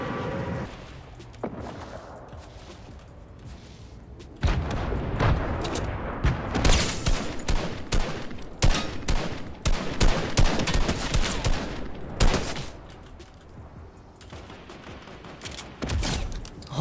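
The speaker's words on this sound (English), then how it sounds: "Oh, I got him with the explosion." Fortnite Battle Royale combat: an explosion and bursts of rapid gunfire crack and boom in clustered volleys, loud and dense, with quieter gaps between exchanges.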